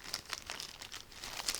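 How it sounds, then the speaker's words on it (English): Plastic packaging crinkles softly and irregularly close by, a faint rustling with small crackling bursts throughout. "Sorry for the crinkling."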